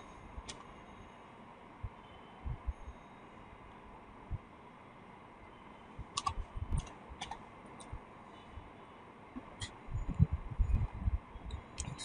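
Scattered keyboard clicks while typing a search into a Chrome browser, a few light taps early then denser bursts toward the end, quiet and close over a low room hiss.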